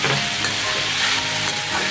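Chili flakes hit a hot pan of stir-frying cabbage and vegetables for ragi noodles, a steady close sizzle with light stirring scrapes throughout.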